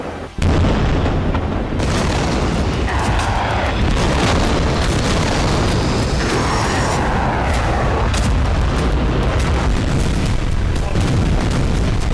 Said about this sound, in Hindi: ईरान की रहस्यमयी मिसाइल से हुए धमाकों ने नेतन्याहू की चिंता बहुत बढ़ा दी।